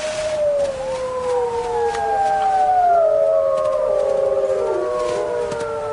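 Several wild wolves of one family pack howl together in long, overlapping, wavering tones, loud and steady, with a low rumbling background.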